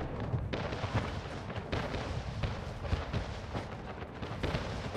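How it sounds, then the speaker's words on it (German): Artillery fires in a naval battle in the video game Anno 1800: repeated booming shots in an irregular rhythm over a dense, rumbling battle background. "Die ersten Schüsse fallen auf beiden Seiten."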